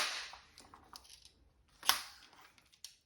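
An FSC CO2 airsoft pistol with a Grimburg 5-inch barrel and Cymrutec 12-gram magazine fires once, a sharp close crack standing out among quieter clicks and handling noises.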